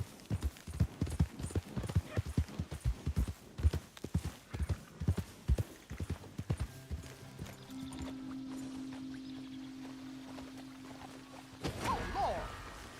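Horse hooves trot in Red Dead Redemption 2, a quick steady clip-clop for several seconds that gives way to a sustained low hum and a brief burst near the end.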